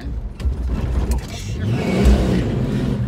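Car engine with a manual three-on-the-tree column shift revving low and rough, then bogging down as it stalls, heard close inside the cabin amid faint background voices.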